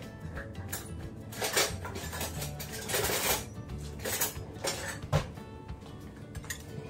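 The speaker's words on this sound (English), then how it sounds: "while we're waiting on that, I'm getting a spoon out" Cutlery clinks and rattles as a spoon is pulled out of a kitchen drawer, a close jumble of metallic chinks and knocks in irregular bursts, with no speech.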